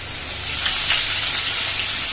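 Shredded potato, salted and squeezed dry, crackles in hot white oil in a kadai: a continuous close sizzle that swells slightly after the start, with faint pops and no talking.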